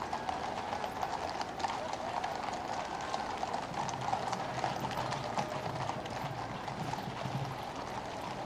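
Horses pulling royal carriages at a birthday parade on Horse Guards parade ground, their hooves clip-clopping in a steady, busy rhythm at a moderate distance under crowd ambience.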